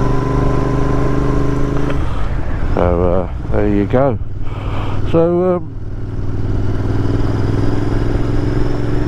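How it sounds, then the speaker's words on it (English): A Royal Enfield Interceptor 650 Mark 2 motorcycle engine hums steadily throughout at close range while riding, with someone briefly speaking over it midway. "I hope you can hear the engine."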